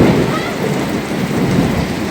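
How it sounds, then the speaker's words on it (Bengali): Heavy rain pours steadily on an outdoor drama shooting location, with low thunder rumbling underneath the dense, continuous hiss, loud and close throughout. "দেখেন প্রচণ্ড বৃষ্টি হচ্ছে।"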